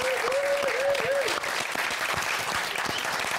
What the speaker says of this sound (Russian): Давайте дружными аплодисментами встретим заслуженную артистку России